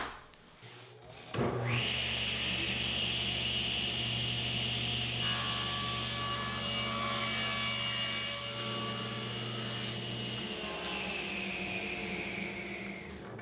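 Table saw ripping a heavy strip of wood for tapered molding: a loud, steady motor whine with the blade cutting continuously through the board for several seconds, then running on after the cut, with no talking.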